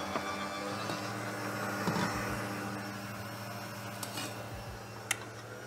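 A stand mixer with a spinning whisk beats egg whites, giving a steady low motor hum with faint ticks and a sharp click near the end, no voices.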